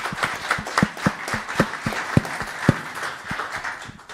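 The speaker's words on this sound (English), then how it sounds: "let's give a round of applause for Corwin" Audience applause at a town council meeting in Los Gatos, a run of individual claps with a few sharp, louder hand claps standing out, steady and fairly close for several seconds before thinning toward the end.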